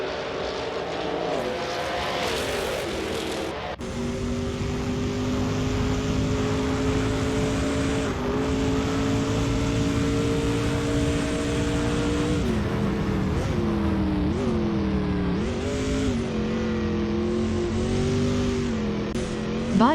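Pontiac race cars in an AI-driven Trans Am racing video game at Grindelwald drone with steady loud engine tones, pitch holding and then dipping and climbing through gear changes, several engines overlapping continuously with no talk.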